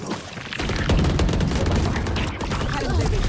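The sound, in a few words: gunfire in the video game Valorant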